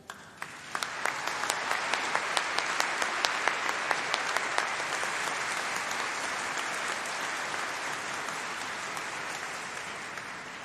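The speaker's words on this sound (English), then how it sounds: "we're really not done with clapping yet" An audience at a university College of Arts and Law summer graduation ceremony breaks into applause that swells quickly after a few lone claps, then holds as a broad, sustained roar of clapping in a large hall before slowly easing.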